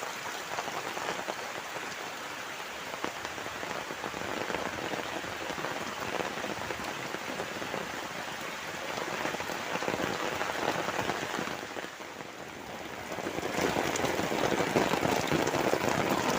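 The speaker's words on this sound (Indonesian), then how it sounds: "Hujannya gede banget" Heavy rain pours on a village, a dense, steady hiss of drops drumming on surfaces for the whole span, swelling slightly louder near the end, with no voices.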